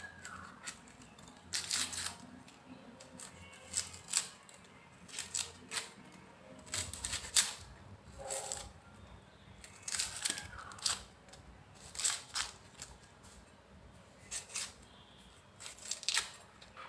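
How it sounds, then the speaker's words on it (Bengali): A knife cuts an onion into long strips for masoor dal, producing a string of crisp, close chopping crunches in irregular bursts against a quiet room. "পেঁয়াজটাকেও কেটে নেব।"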